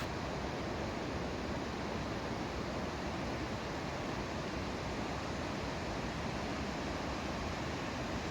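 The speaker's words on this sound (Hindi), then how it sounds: "इस जो नदी की आवाज़ है ना, वही बेस्ट एक्सपीरियंस है ना फ्रेंड्स" A river rushing along near Kasol in the early morning, a steady broadband roar of flowing water that holds unbroken and fairly soft throughout, with no voices.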